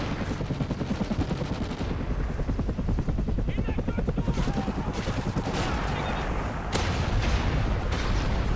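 Rotor chop of a friendly helicopter arriving in a multiplayer shooter video game, a steady rapid beating that stays loud throughout, mixed with bursts of gunfire and game effects.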